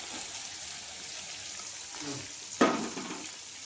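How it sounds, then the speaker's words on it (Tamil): Dried turkey berries (sundakkai vathal) fry in oil, a steady bright sizzle with one sharp pop or spatter burst near the end, heard up close. "சுண்டை வத்தல் நல்லா பொரிஞ்சு வந்ததுக்கப்புறம் வெங்காயம் சேர்த்துக்கலாம்."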